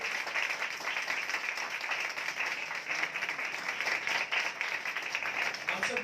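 Sustained applause from a church congregation during a live worship meeting, a dense, even patter of many hands clapping for several seconds, moderately distant.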